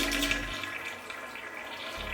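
A hotel room toilet at a Cancun resort flushes with weak water pressure, a close, soft rushing of water that stays fairly even and subdued for a couple of seconds.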